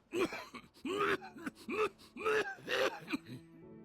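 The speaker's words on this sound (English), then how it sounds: "those are terrible coughs" A series of harsh, strained vocal bursts in quick succession, like repeated raspy coughing and gasping, fairly close and rhythmic.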